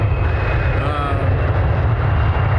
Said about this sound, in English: They come over you, you know, probably less than 100 feet over your head when they're coming in to land.